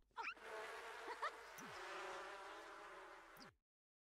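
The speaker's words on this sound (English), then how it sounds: "Did he just turn into bees?" A swarm of buzzing bees in The Sims 4, a continuous droning hum that holds steady for several seconds before cutting off abruptly, with no voices over it.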